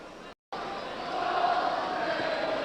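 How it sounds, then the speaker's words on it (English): Altrincham football fans cheering in a stadium during a match against Liverpool, a broad, distant crowd roar that swells slightly and holds steady after a brief dropout. "The Altrincham fans, never say die fans, still cheering their team on."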